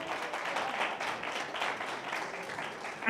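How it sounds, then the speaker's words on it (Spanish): Congregation at a church baptism service claps in a steady, dense burst of applause, moderately loud and continuous throughout, with no speech over it. "denle un fuerte aplauso"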